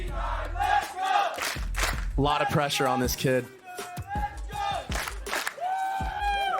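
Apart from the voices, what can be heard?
esports arena crowd cheering at Valorant match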